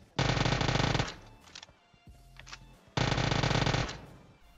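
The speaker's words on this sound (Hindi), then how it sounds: "यहाँ पे आगे गोलियां चली है" Two loud bursts of rapid automatic Uzi gunfire in the video game PUBG Mobile, each about a second long, separated by quieter clicks and shuffling sounds.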